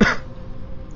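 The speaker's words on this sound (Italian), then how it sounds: "questa è la classica tosse da fumatore" A single short smoker's cough from a character in the Lost Planet 3 video game, a rough burst at the very start that fades into quiet low background.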